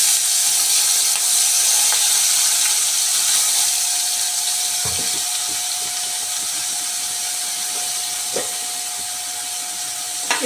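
Onions, capsicum and tomato frying in oil in a pan for pasta give a steady, bright sizzling hiss throughout, with a couple of faint utensil clicks partway through.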